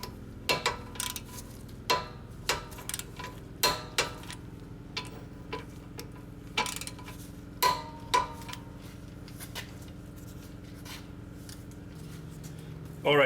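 A rapid run of sharp metallic clicks and ratcheting taps while a torque wrench works the second rear caliper bracket bolt on a Mercedes/Dodge Sprinter, close and uneven, thinning out toward the end.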